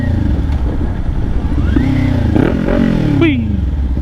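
Motorcycle engine running steadily while being ridden, a loud continuous rumble with rising and falling revs, and a person's voice talking over it.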